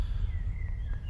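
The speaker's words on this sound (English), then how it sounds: "I can hear the birds tweeting." Faint, thin chirps of park birds in the game Where Is My Egg? drift over a low, steady ambient rumble, with a few brief high calls and a longer rising whistle near the end.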